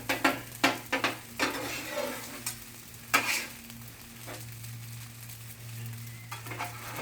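Chicken fried rice sizzles steadily in a hot pan while a utensil stirs and turns it, with several sharp scraping clacks early on and a lone knock midway, quiet and close with no talking.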